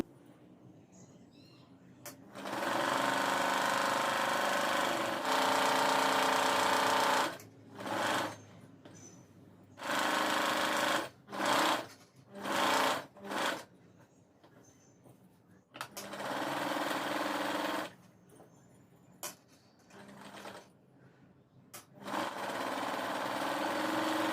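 A sewing machine stitches the main cloth and lining of a blouse back together in steady runs. Long buzzing bursts break into several short stop-start spurts before running on again.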